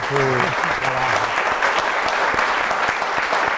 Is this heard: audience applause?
yes